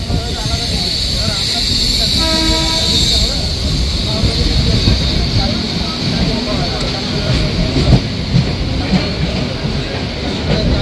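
A suburban train on the Sealdah–Ranaghat line runs into Kalyani Junction, with steady wheel-on-rail rumble, hiss and occasional clickety-clack and squeal, loud and continuous throughout, with faint voices in the background.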